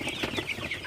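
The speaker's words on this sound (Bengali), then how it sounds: "গরমের মধ্যে পানি দেওয়ার পর একটু মুরগিকে তাড়াই দিতেছি" Sonali super hybrid chickens in a hot poultry house give a brief burst of clucking and agitated calls while being shooed, close and fairly loud, with no speech.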